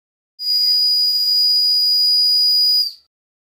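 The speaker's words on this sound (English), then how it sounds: "The smallest steam whistle I have is this one." A tiny steam whistle of 3/8 inch diameter, mounted directly on its valve, gives one sustained, piercing high-pitched blast of about two and a half seconds. It is loud and close and has a breathy hiss, with no talking.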